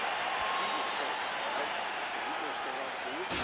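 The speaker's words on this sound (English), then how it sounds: "So the crowd voicing its appreciation after that round." Crowd applause and cheering in a UFC 4 fight simulation after a round, a steady dense roar of clapping held for several seconds at close, full level.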